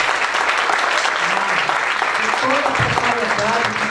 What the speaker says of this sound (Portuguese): eu quero agora uma salva de palmas para essa turma que fez um trabalho belíssimo